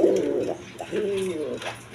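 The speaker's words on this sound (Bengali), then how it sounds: "এইখানে এক পেয়ার শার্টিং কবুতর আছে দেখেন।" A pair of shirting pigeons coo close by in repeated low, throaty rolling calls, two longer phrases followed by shorter ones, with no voices present.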